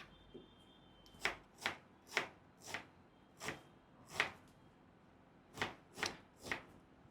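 An onion is chopped into small pieces with a knife, giving about ten crisp, close cuts in uneven groups against quiet room tone with no talking.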